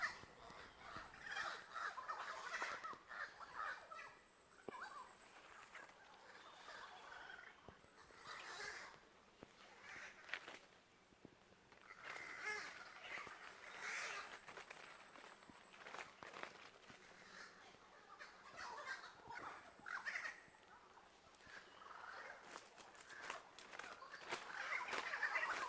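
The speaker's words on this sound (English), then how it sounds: "Very noisy birds, you hear them, my viewers? Hear the amount of noise." Large crow-like birds give loud, repeated harsh cawing near coconut trees in a rural countryside setting, the calls overlapping continuously and rising in bursts throughout.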